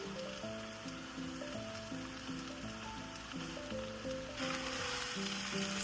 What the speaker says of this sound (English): Sauteing them in oil brings out their natural flavor.